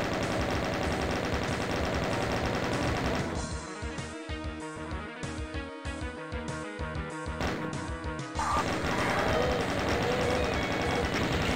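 A chaingun fires in Doom II on a demon-filled level. The shots come as a rapid run of loud, evenly spaced bursts over dense game music, and the burst lasts several seconds before the music carries on alone.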